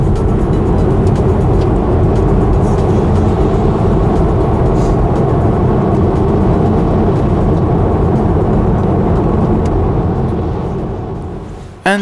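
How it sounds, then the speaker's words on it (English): Studded winter tires on a Tesla Model 3 make a steady, loud broadband roar and rumble as the car drives, continuous for the whole stretch before it abruptly cuts off at the end. "the tires is something that is making noise when driving"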